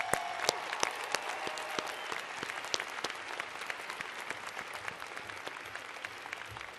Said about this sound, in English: Another round of applause for our doctoral philosophy graduates.